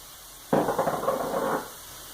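Fresh garden onions, about two-thirds of a cup, hit a well-seasoned skillet for tater tot hotdish, a sudden close burst of sizzling that lasts about a second before fading quickly.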